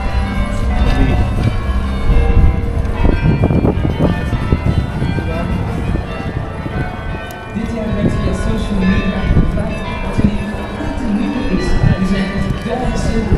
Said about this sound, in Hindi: अब 3 बजे हैं यहाँ और घंटियाँ बजना शुरू हो गई चर्च की।